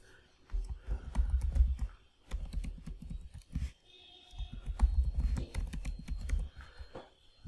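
Rapid keystrokes on a computer keyboard as a password is entered, clicking in quick uneven bursts with short pauses between runs, close and fairly loud with no talking.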